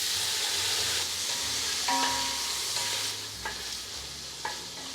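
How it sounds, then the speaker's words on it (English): Seasoned mushrooms frying in a pan for bak chang zong zi, a steady close sizzle with occasional scrapes and stirs of a spatula against the pan. "Then next we need to fry the mushrooms that have been seasoned"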